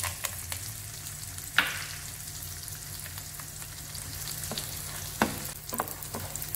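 Pieces of gond, edible gum, fry in a pan over a low flame, a constant crackling sizzle close by with a few sharp spatula scrapes and pops.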